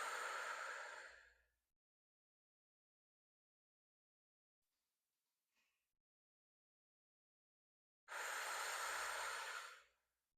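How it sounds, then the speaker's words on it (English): Slow, deliberate breaths drawn in through the nose and let out through the mouth, two long audible exhales close to the microphone separated by several seconds of near silence, with no talking. "In through the nose. Out through the mouth."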